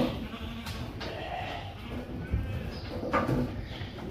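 Lambs bleat on a sheep farm as they are put through weighing scales, several short calls at moderate distance over a steady background of farm noise.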